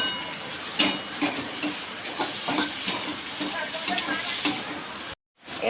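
Cumin seeds tempering in hot oil in a pan crackle and sizzle, with a steady hiss broken by repeated small pops, then a brief cut to silence.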